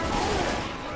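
Dense, continuous gunfire in the Left 4 Dead 2 Dead Centre campaign during a tank fight, rapid overlapping shots forming a loud sustained barrage with shouting voices mixed in.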